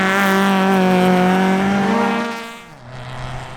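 Peugeot 208 R2 rally car at a sprint stage, its engine held at a high, steady pitch that shifts up before fading as it passes on.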